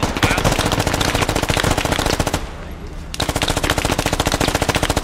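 Rapid automatic gunfire in the video game Squad rattles in long, loud bursts of evenly spaced shots, broken by a short pause before firing resumes.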